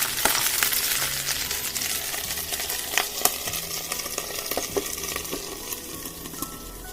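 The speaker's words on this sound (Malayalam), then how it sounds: "നമ്മൾ മുറിച്ചിട്ടൊന്നുമില്ല അപ്പാടെ പൊരിക്കാന്ന് വെച്ചു" A whole, uncut pearl spot fish frying in hot oil, a continuous close sizzle dotted with crackling pops and an occasional light metallic clink.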